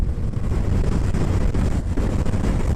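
Wind roars across the microphone on a moving Triumph Rocket 3 GT motorcycle with a 2500 cc engine, a loud, continuous low buffeting rumble throughout; no voices.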